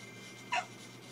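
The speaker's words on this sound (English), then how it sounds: "The pitch of their bark or meow goes higher." A single short, high yip from a small pet dog sounds once, close and brief, against a quiet background.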